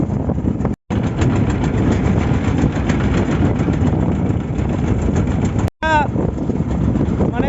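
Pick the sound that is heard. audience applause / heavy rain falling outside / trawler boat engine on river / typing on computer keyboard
trawler boat engine on river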